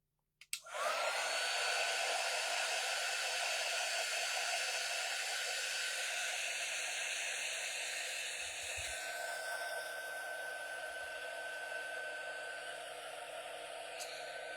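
A hair dryer switches on abruptly and blows steadily, drying Halloween craft ghosts up close, its loud even whoosh shifting slightly in tone midway as it is moved, continuing to the end.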